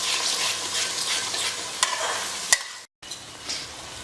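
Masala with garlic ginger paste sizzles and fries in a pan for palak chicken, stirred steadily with occasional sharp scrapes and clinks of the spoon, close up with no talking.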